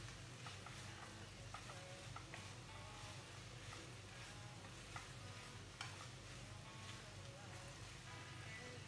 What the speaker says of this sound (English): now we're gonna put our green chili and red chili.